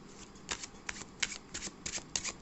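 A deck of tarot cards is shuffled by hand at close range, producing a series of quick, crisp riffling bursts in an otherwise quiet room.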